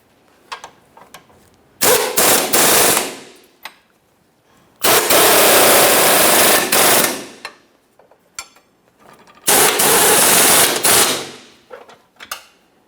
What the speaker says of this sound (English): Now we can snug up each one of these mounting bolts